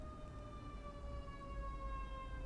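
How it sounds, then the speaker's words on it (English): A siren passing outside with a steady, drawn-out wail, faint and distant beneath a low background rumble. "Here comes a siren. Can you hear it?"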